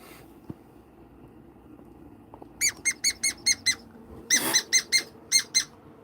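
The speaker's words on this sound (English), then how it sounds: "So any squeaking like that, that's the dog's playing." A dog plays with a squeaky rubber ring toy indoors, giving two quick bursts of sharp, close squeaks, five or six rapid squeezes in each, against a quiet room.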